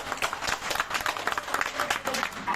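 Students applaud with steady, dense clapping from a crowd at a PhD open defense, continuous and fairly close throughout with no break.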